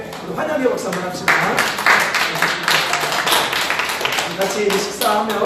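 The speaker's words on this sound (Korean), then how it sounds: "우리 환영의 박수 한번 합시다" Welcoming applause from a church congregation at a Sunday service, many hands clapping steadily and fairly close for several seconds, with voices mixed in under the clapping.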